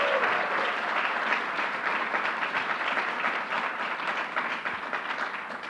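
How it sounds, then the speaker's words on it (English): A crowd at a governor's bill-signing event claps loudly and steadily for a speaker, a thick wash of applause that goes on for several seconds without voices. "Let's give her a big round of applause."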